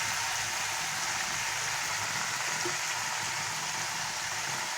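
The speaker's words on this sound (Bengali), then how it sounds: "আর মাঝে মাঝে আমি এটা নাড়াতে থাকবো এরকম করে ভালো করে নাড়িয়ে নেব" Chicken gravy with spice paste cooking in a pan as it is stirred, a steady soft sizzle and bubbling hiss throughout, with no voices.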